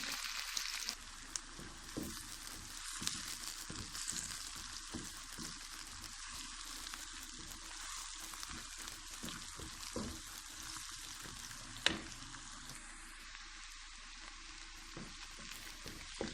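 Onions fry in a pan for a fish curry, a faint, continuous sizzle with occasional soft scrapes of stirring and no talking.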